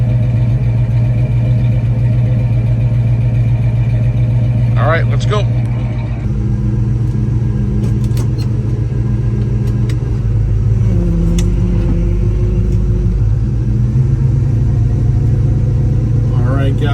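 A 1955 Chevrolet Bel Air's engine rumbles steadily at idle and while driving, a low continuous drone close to the microphone, with someone speaking briefly over it.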